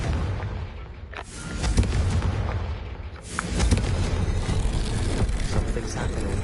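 A Confringo fire spell exploding in Hogwarts Legacy, a heavy booming blast with rumbling roar, followed by a second surge of rushing noise as a voice is heard.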